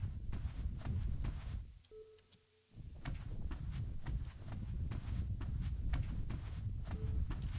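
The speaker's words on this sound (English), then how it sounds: "Keep beeping at me." Repeated electronic beeping in the Dreamcore video game, a steady pulsing signal over a continuous background of rhythmic clattering, with a brief quieter gap partway through.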